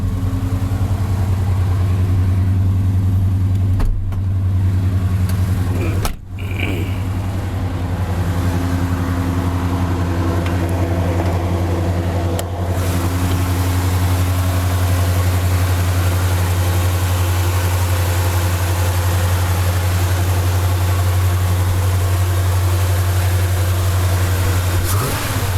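A 1979 Chevy truck with a rebuilt 350 V8 and MagnaFlow mufflers idles steadily, a loud, deep, continuous rumble close by that holds even throughout with only slight shifts.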